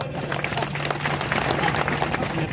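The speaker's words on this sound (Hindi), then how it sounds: "ये आदमी के लिए ताली बजाओ" An audience at a speech bursts into sustained clapping for a man, many hands applauding together at a steady, lively rate, with a faint hum beneath.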